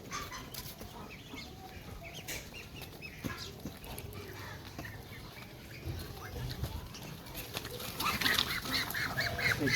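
Muscovy ducks quack and honk in a flock, with scattered calls building louder toward the end, nearby and mixed with background noise.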